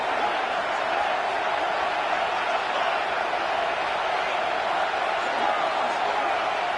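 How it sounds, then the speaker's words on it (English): Home crowd in the NCAA 26 college football video game roaring loudly and steadily, a dense wall of cheering that stays at full volume with no breaks. "how nice is it to have the home crowd going absolutely bananas?"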